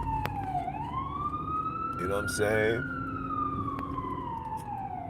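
An ambulance siren wails loud and close, its tone sliding up and down in a long sweep, with someone talking over it throughout.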